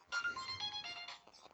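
A phone ringtone plays nearby, a short melodic electronic jingle of bright sustained tones lasting under two seconds with no talk over it.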